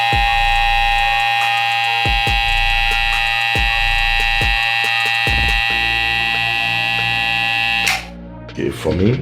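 A ROZIA HQ323 hair clipper fitted with a replacement motor runs with a constant high-pitched electric buzz, while a person talks over it before it is switched off near the end.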